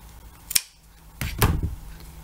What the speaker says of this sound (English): I'm just gonna go ahead and cut off that remaining twine